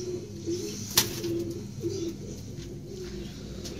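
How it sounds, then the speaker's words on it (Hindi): A large tumbler pigeon coos softly in low, repeated rolling notes, with one sharp click and faint background noise and no voices. "ये टोली कबूतर है गाइस, और काफ़ी बड़ा कबूतर है"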